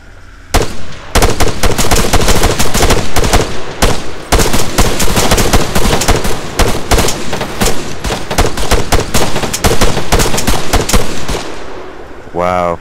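Dense, loud automatic gunfire in the video game Arma 3 during a friendly-fire incident, rapid bursts nearly continuous with brief pauses, close and dominant, with voices briefly audible.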